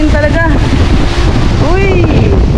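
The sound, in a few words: strong wind on a boat in Boracay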